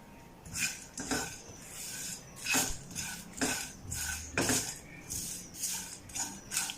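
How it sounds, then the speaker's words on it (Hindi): Whole spices for nihari masala being dry roasted in a pan over a slow flame, stirred with a utensil that scrapes and clinks against the metal in repeated uneven strokes, close and fairly quiet. "स्लो फ्लेम पे हमने इनको ड्राई रोस्ट करना है।"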